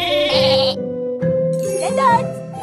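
Cartoon sheep in a Caillou children's video game bleat loudly twice, separated by a short pause, with a light chiming tinkle and bright synthesized game music underneath.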